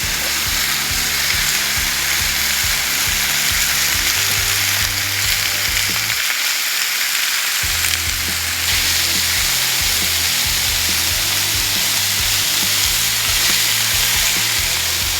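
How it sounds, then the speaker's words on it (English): Pork belly pieces frying on a Blackstone griddle, a loud dense continuous sizzle with a low crackling base that briefly drops away for a moment before resuming. "now that we got that monster pork belly all cut up, it's time to get it on the griddle, get it nice and crispy"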